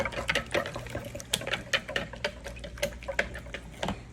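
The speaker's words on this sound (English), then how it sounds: "I'm gonna scramble it with my whisk." A cracked Eggland's Best egg whisked in a bowl: a quick, steady run of light clicking taps, close and fairly quiet, with no one talking.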